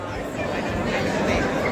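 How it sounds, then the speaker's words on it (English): A small crowd chatters at an event in Okotoks, Alberta, its overlapping voices forming a steady, fairly close hubbub with no single speaker standing out. "Small crowd this time."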